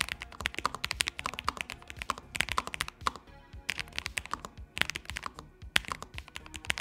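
Quick bursts of clicky keystrokes from a Lofree Flow 84 low-profile mechanical keyboard, close and crisp, with brief pauses between flurries of typing.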